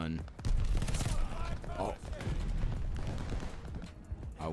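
Rapid bursts from the Itra Burst rifle in Call of Duty Vanguard multiplayer, dense gunfire layered with game effects and a player's brief exclamation over it.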